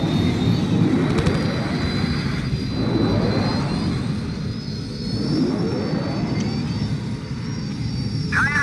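A starfighter taking off in Star Wars Battlefront II, a loud continuous jet-engine roar with a steady whine that holds for the whole stretch without pause, no voices over it.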